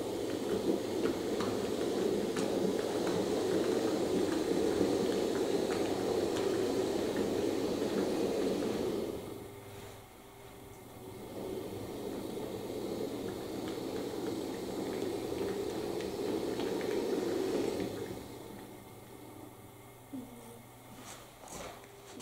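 A Fleischmann V60 model diesel locomotive shunts a wagon on a model railway, its small motor giving a steady whirring drone that drops away for a moment and then resumes before fading out.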